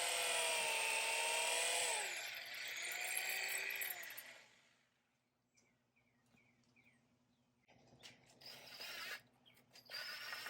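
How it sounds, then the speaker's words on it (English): A hammer drill with its hammer function switched off bores holes in cedar for a trellis, its motor whining loudly and close, rising and falling in pitch for several seconds before stopping, with quiet outdoor ambience and then another burst of noise. "I'm using a hammer drill here to drill the holes, but it's 9 a.m. Sunday morning, so I'm not using the hammer function."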